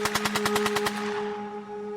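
Rapid bursts of wartime gunfire, about nine sharp shots in quick rhythmic succession followed by a ringing tonal hum as the shooting stops, loud and with no voices.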